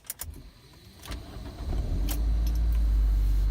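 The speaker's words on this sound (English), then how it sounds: "I'm sure you all heard that really bad screeching sound there" An old beater car with a manual transmission starting off, a rising engine and drivetrain rumble that swells and holds loud and close, with brief high metallic squeals and rattles near the start.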